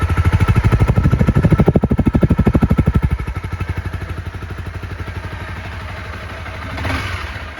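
A Honda CBR motorcycle engine idling in neutral, a loud, close, steady rapid putter with pulses that ease slightly after a few seconds and a small rise near the end, with no talk.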